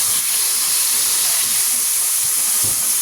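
Water boils hard in a pot for pasta up close, a constant loud hiss of steam with soft bubbling and rumbling underneath.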